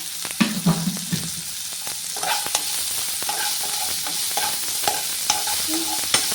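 Potatoes with onion and salt sauté in a pan for potato rice, a steady soft sizzle broken by scraping stirs and clinks of the spatula.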